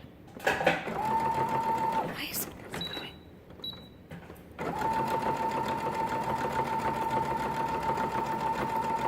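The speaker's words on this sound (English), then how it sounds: "I'm just doing a straight stitch" Sewing machine running a straight stitch on a burp cloth, close and steady with a whirring hum that pauses for about two seconds midway, broken by brief handling clicks, then resumes.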